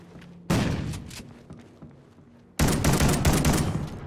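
Two loud, booming shotgun blasts in an online video game match, the first at half a second and the second about two seconds later, each followed by a long rumbling, crackling tail.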